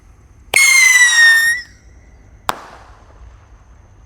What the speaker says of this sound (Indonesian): Di sini ada roket pirotor yang warna biru seperti ini guys. Semoga bisa meluncur teman-teman.